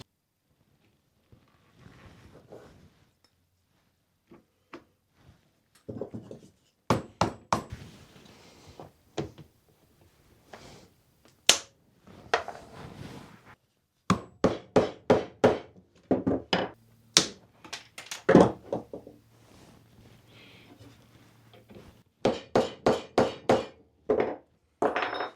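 Hammer blows set rivets through leather on a folding chair, struck in close, sharp bursts of several hits each, with short pauses between the groups of blows.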